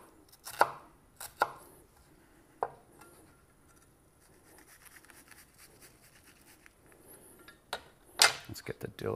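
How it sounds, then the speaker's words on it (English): An onion chopped with a knife on a board for a shrimp salad sandwich topping, a few sharp separate knife thuds spaced apart, then a quick burst of cuts near the end, close and with no voice. "you want to chop this. You don't want to chop it too fine, because you still kind of want to feel that it's onion in there."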